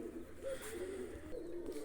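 Pigeons coo softly and repeatedly as grain is scattered for them, low rolling calls over a steady background hum with no talk.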